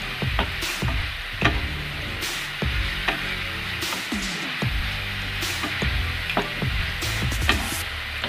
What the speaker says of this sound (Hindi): अच्छी तरह से टमाटर लहसुन अच्छी तरह से फ्राई होने तक इसको फ्राई कीजिए।